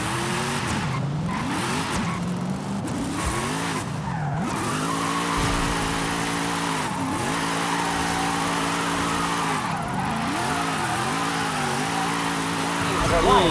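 A Toyota Supra drifts in the video game Forza Horizon 5, its engine revving up and down in repeated swells while tires squeal through slides. Game sound and a voice run underneath the whole time.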